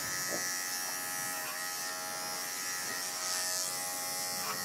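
Bravura clippers run steadily while grooming a Shih Tzu, a continuous electric buzz throughout, sounding slightly bogged down, with faint brief swells as the blade works through the coat.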